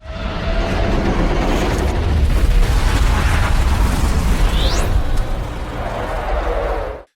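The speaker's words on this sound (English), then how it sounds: "The tanker flips, rolls over, and erupts in a massive explosion." A tanker truck flips, rolls and explodes in a huge, sustained blast with deep rumbling roar that holds loud for several seconds before dying away, with a brief rising whistle near the end.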